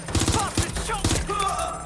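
Gunfire in the video game Watch Dogs Legion crackles in short clustered bursts of sharp shots, with brief tonal game effects sounding between them.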